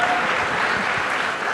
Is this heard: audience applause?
yes